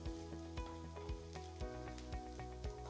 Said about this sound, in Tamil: போட்டு இதை வறுத்துக்கலாம்.